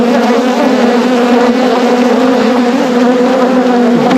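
Honeybees swarming around a fully suited beekeeper opening a hive, a loud dense continuous buzzing right at the ear, many wings droning together without pause.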